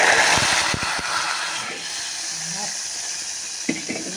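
Hot tempering poured into tamarind rasam sets off a broad hiss and sizzle, loud at the start and then settling into a steady, fainter sizzle with a few small clinks.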